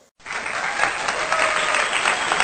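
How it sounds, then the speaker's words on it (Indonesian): Applause in a classroom after a small-group discussion, a burst of clapping from a group of people that starts suddenly and holds steady, close and lively. "maka kita beri aplaus untuk kalian semua karena sudah melakukan diskusi hari ini dengan baik"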